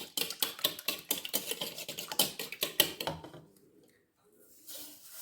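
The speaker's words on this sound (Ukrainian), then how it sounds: "Я збиваю потихеньку вінчиком." Two eggs beaten with a wire whisk in a bowl, a fast run of sharp metallic clicks and taps for about three seconds, then stopping, with a quieter rustle near the end.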